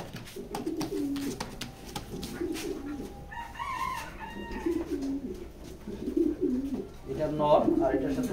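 Pigeons coo and warble close by as a male bird is let go, with someone talking over the repeated soft calls and some rustling.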